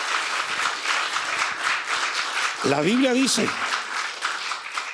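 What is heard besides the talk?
congregation applauding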